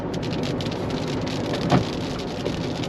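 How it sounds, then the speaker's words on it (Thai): Steady rain pours down on a stormy evening during a drive near Pha Taem, a dense close hiss of drops with a brief louder splash partway through and no voices. "ฝนตกลงมาต้อนรับเราแล้วนะครับ"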